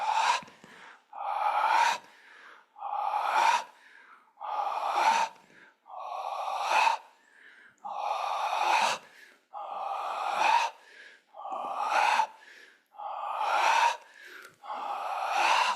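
Slow, audible breaths during a qigong practice for reducing stress, about ten rhythmic breath cycles at close range, each a long airy whoosh separated by short pauses.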